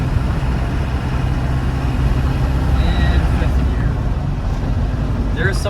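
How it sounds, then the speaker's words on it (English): The 200Tdi diesel engine of a 1993 Land Rover Defender 90 drones loud and close as it pulls through the gears, a steady low rumble with brief shifts, while someone talks over it. "So let's go ahead and accelerate through third gear. And fourth gear. And fifth gear."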